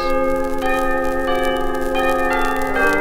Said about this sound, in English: And some of the drummers played bells,